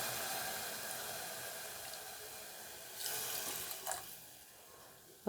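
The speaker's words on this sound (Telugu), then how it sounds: "దానికి 2 glasses ఆఫ్ వాటర్ వేసుకుంటున్నా" Two glasses of water are poured into half a glass each of rice and lentils for baby food, a soft, steady splashing stream that runs for several seconds at low volume, ending with a small clatter.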